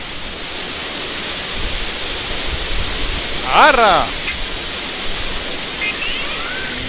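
An endless water stream on the floating islands of the video game Grow Home pours as a loud, constant rushing hiss, with a short exclaimed voice and chirping game tones briefly over it.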